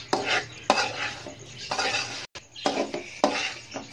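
Semolina being stirred and roasted in a pan for a semolina and egg sweet, with repeated scraping strokes of a spoon against the pan and a faint sizzle underneath, close and moderately loud.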